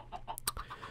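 Minecraft chickens clucking in short, separate calls that come close together and sound near, with no talk over them.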